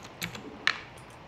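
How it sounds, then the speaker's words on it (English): A video game character types on a keyboard, a few soft, faint key clicks spaced unevenly over about a second. "He's obviously typing his response."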